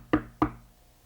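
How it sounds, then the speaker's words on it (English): Two sharp knocks on a door, about a third of a second apart, close and distinct against a quiet background in a Winnie the Pooh cartoon. "it sounds as if there's someone at my door"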